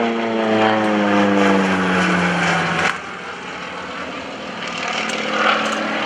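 A propeller aerobatic airplane rolls past loud and close at an airshow, its engine pitch sliding downward before dropping to a steady, rushing drone with a faint high whine of singing bracing wires.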